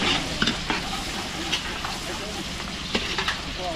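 Garlic and onion sauté for pancit in a large catering pan, a dense, loud, close sizzle with repeated clacks and scrapes of a ladle stirring.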